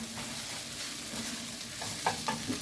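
Minced garlic sizzles in a pan while being stirred, a steady, fairly soft frying hiss with a few light scraping knocks near the end, no voices.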